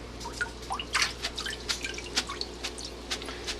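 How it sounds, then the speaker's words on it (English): Washed, chopped kohlrabi greens draining in the kitchen, giving off a close, irregular patter of drips and small trickles over a faint steady hum. "here are the greens all cut up and washed, and you just drain these"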